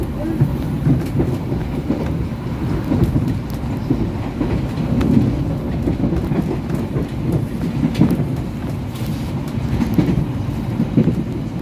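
A KRL CRRC commuter train and the Taksaka express race past close by at Bekasi station with a steady heavy roar and rhythmic clacking of wheels, continuous throughout, with faint voices now and then.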